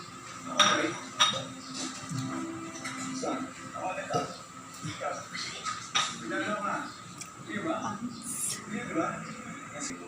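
Pork stirred in sweet soy sauce with star anise in a pot, giving intermittent metallic scrapes and clinks of a utensil against the pot at close range, with faint low voices in the background.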